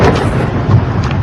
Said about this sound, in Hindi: ये आपको आवाजें जो सुनाई दे रही है, धमाके की आवाज सुनाई दे रही है।